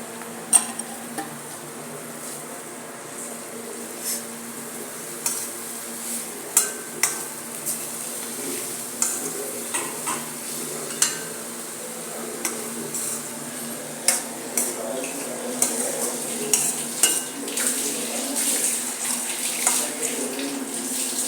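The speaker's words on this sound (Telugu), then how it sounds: "ఇప్పుడు చిగురు వేస్తున్నా ఫ్రెండ్స్. కొంచెం ఇట్లా నలుపుకొని చిగురు వేయాలి ఫ్రెండ్స్." Tender tamarind leaves being added to a pan for an egg fry and stirred, giving soft scattered clinks and scraping taps over a steady low sizzle, with no talking.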